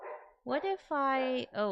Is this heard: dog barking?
yes